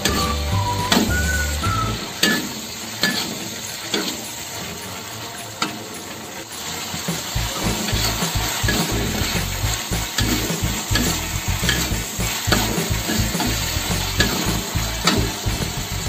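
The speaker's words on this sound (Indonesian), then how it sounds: "Sayur kol. kita aduk-aduk" Cabbage stirred as it fries in a pan for homemade seblak, with steady close sizzling and repeated scraping stirs, busier in the second half.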